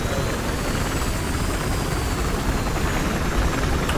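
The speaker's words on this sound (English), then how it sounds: "Hey, choppers, hey, choppers." Helicopter in the Battlefield Hardline video game, a loud, dense, continuous rotor and engine roar that holds steady with no breaks and no talking over it.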